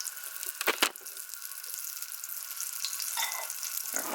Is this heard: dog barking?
no